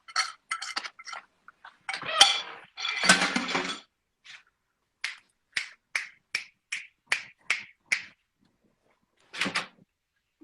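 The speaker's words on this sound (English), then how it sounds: "All I heard was dishes moving." Dishes being moved while cleaning up, with a burst of clattering and scraping followed by a steady series of separate sharp clinks and taps, close and moderately loud, with no talk.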